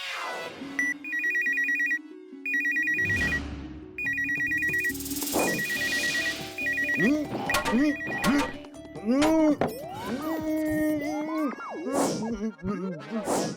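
A telephone rings in an animated Chacha Bhatija cartoon with a repeated electronic ringtone in short bursts, followed by cartoon whooshes, thwacks and swooping effects, with voices in the mix.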